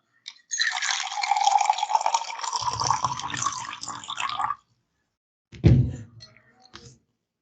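Water is poured into a container in a long, steady, close trickle for about four seconds, followed after a pause by a heavy thunk and a brief splash, like a bottle or glass being set down.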